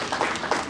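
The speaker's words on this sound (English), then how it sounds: "Let's give her a round of applause for that." Brief burst of audience clapping at a project management conference, a short loud patter lasting under a second.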